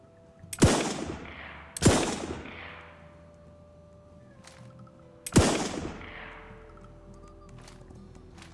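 A hunting rifle fired in the game Alaska Gold Fever: three loud, sharp shots, two close together and a third after a pause, each trailing off in a ringing echo against faint background ambience.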